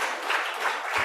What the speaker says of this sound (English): A hand of applause for him as he comes through.